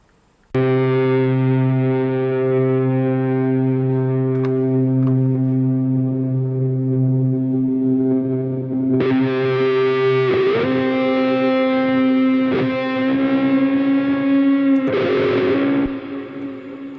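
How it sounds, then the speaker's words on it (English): A sustained, heavily distorted electric guitar note from a mix track rings out with a huge, washy reverb tail, later shifting into louder chords that keep blooming. "So you can hear it's got a massive reverb on it"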